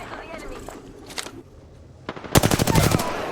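Apex Legends tournament gunfire from a charge rifle and other weapons plays under an excited caster's commentary, with a few scattered shots early on and then a loud burst of rapid automatic fire near the end.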